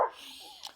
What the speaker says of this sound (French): Alors est-ce que c'est le chien d'un voisin?